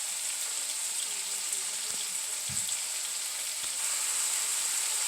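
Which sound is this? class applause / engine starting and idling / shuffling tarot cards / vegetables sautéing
vegetables sautéing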